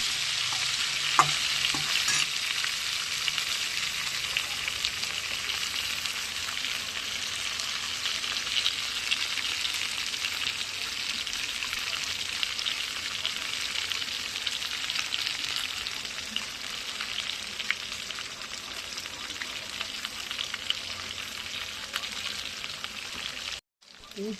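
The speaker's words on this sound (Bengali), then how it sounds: "এবার আলু কপিটা দেখুন ভেজে নিচ্ছে।" Potato and cauliflower fry in a pan with a steady, dense sizzle that runs loud and unbroken throughout, close up, with faint crackles and no voices.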